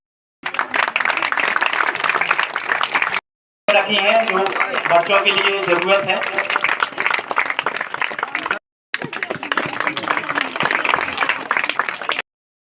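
An audience applauds at a biodiversity panchayat event held by the Navdhanya organisation in Niwari, where children's drawings are on show. The clapping is dense and steady, with brief gaps, and someone speaks over part of it.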